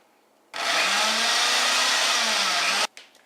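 A food processor pulverizes flour, almonds, baking powder and salt for biscotti, a loud steady whirring motor roar running for about two seconds before cutting off abruptly.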